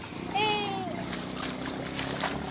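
Floodwater splashes and sloshes continuously nearby during heavy rain in Sindh, with a brief high voice or squeal near the start over the watery churn.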